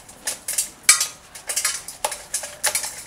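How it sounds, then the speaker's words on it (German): An orchid is eased out of its plastic pot, giving a series of close, light crinkling and scraping handling noises in short bursts with no talking. "ich werde jetzt ganz einfach den Topf entfernen"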